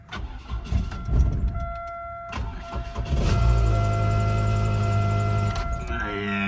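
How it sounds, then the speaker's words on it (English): A repossessed auction car cranks and catches, then idles roughly with a rattle and the chuff of an exhaust leak, a dashboard chime pinging steadily over the engine. "it starts up and it sounds like it's got some stuff going on there, rattling a little bit"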